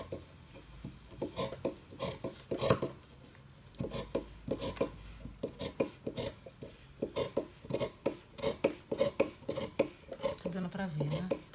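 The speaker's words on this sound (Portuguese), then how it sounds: "Agora eu vou cortar este lado." Scissors cutting through waterproof fabric for a square envelope-style pet bed, a steady run of short rasping snips at close range with brief pauses between cuts.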